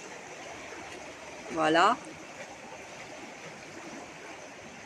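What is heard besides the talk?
flowing river (the Aude) beside the speaker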